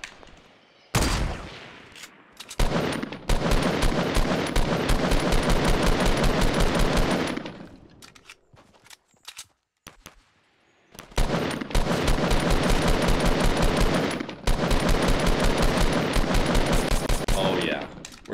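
Rapid automatic gunfire in a Fortnite battle match, long sustained bursts of loud close shots separated by short pauses, then resuming in heavy sprays.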